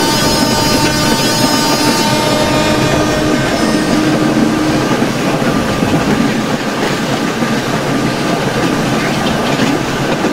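A WCAM 3 locomotive hauling the Mumbai CSMT–Pune Intercity Superfast Express in the Open Rails simulator, a loud continuous rumble of running wheels and steady rail clatter with a humming motor tone throughout.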